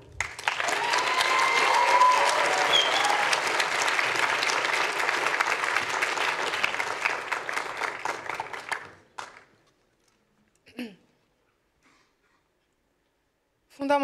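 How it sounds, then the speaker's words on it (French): An audience at a high school speech contest in Montreuil applauds a student speaker, giving steady, loud clapping for about nine seconds before it cuts off abruptly into near silence, followed by a few faint sounds. "s'il vous plaît, applaudissez très fort Kumba Sako"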